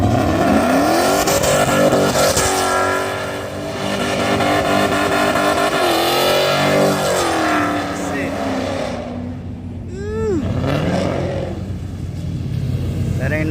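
A loud modified Mopar V8 car engine, likely the 5.7 Hemi in a Dodge Magnum, revs hard at a rainy night car meet. The revving rumble swells and drops continuously and stays close, with voices mixed in underneath.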